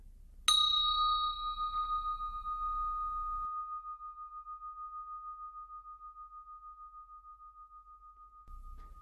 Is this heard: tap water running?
no